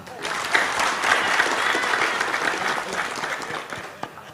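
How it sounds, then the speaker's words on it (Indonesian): A room of neighbourhood RT heads applauds the regent at a community gathering in Mersam: dense, steady clapping from many hands, fairly close, swelling quickly and tapering off near the end. "mari kita sama-sama beri tepuk tangan untuk Pak Bupati kita"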